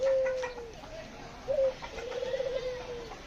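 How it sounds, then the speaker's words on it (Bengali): Crested running doves coo in a rooftop aviary, several soft, low, drawn-out calls repeating close by with short pauses between them, no one speaking. "আমার ঘুঘুগুলো, এগুলো সবই ঝুটিওয়ালা ঘুঘু, সব রানিং ঘুঘু"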